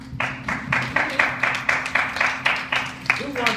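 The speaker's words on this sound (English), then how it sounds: "let's give him one more round of applause" An audience claps in a steady, rhythmic unison beat, about three claps per second, fairly close and loud, with a low steady hum underneath.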